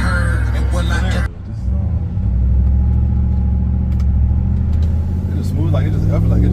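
A 2023 RAM 1500 Big Horn Night Edition pickup driving, its engine a deep, steady low rumble heard from inside the cab, with a voice-like layer over it and a brief dip early before the drone resumes.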